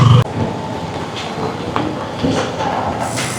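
Steady rain falls outdoors at a market, a dense continuous hiss close to the microphone with a few brief knocks and splashes on top.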